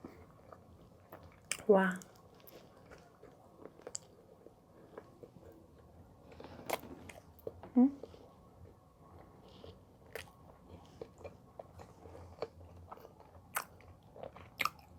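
A chewy Korean bread loaf is bitten and chewed up close, with one sharper bite early and then soft, irregular mouth sounds; a voice speaks briefly.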